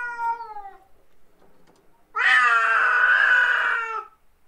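A cat gives a short meow, then after a quiet gap lets out a long, loud, strained yowling meow lasting nearly two seconds, close up.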